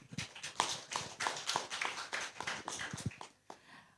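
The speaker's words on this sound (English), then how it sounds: "Please give our community jury members a warm round of applause." Applause from an audience at a startup Demo Day event, honouring the community jury members; a burst of scattered, sharp hand claps fills the hall, dense and steady before thinning out toward the end.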